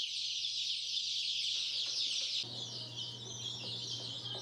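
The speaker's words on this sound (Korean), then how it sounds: "수컷 병아리다." Male chicks kept as feed at a wildlife rescue center chirp in a dense, high, continuous chorus, fairly close, with no voices over it.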